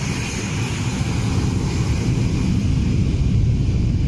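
A DHL Boeing 757-200 cargo jet at San Jose, Costa Rica, with its right engine coming out of reverse thrust: a loud, steady broadband roar with a faint high whine, continuous throughout.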